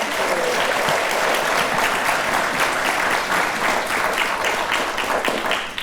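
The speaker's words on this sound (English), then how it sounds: "can we give her another round of applause" A conference audience at a construction summit gives a keynote speaker a loud, dense round of applause that holds strong and steady throughout and only begins to thin right at the end.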